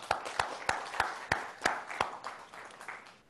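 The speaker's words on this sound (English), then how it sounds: "Now let's give them a big round of applause." At an annual dinner, a few people clap in a slow, sparse rhythm, sharp distinct hand claps spaced about a third of a second apart over faint background murmur, thinning out toward the end.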